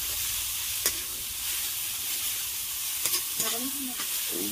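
Pork intestine sizzles steadily in hot oil in a home pan, a continuous close frying hiss broken by a few sharp spatter pops and light clinks of stirring.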